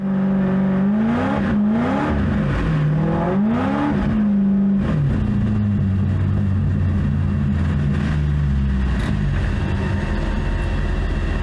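A car with a 3D-printed widebody and narrow 195 tyres drives in snow late at night with little front grip, its engine revving up and down in rising and falling sweeps, then a rougher steady roar with tyre noise, loud and continuous.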